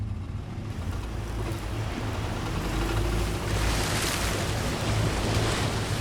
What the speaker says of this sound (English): We get into the middle of this fast-flowing stream at 2'6" of water